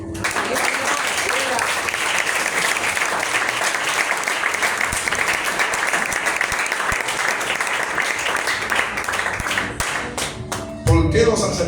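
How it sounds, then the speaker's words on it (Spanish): A church congregation claps and applauds steadily and warmly for several seconds, fading out near the end as a voice returns. "Denle un aplauso por lo menos."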